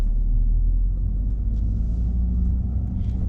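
A car with a dual clutch automated gearbox creeps gently forward, giving a steady low engine rumble and road hum heard from inside the cabin, with no talking.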